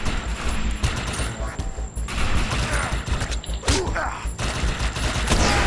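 Loud rapid bursts of gunfire in the video game Defiance, including shotgun blasts, cracking in dense volleys with mechanical clicks and creaks throughout, under excited voices.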